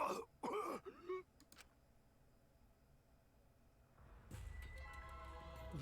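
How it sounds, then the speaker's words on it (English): A character in the Danganronpa V3 video game coughs and groans harshly in a few short bursts, followed by a quiet pause and then a swelling low musical tone. "Cough."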